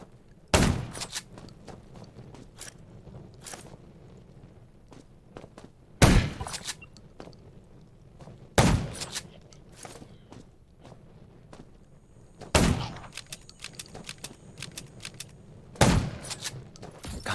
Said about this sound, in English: Gunshots will attract.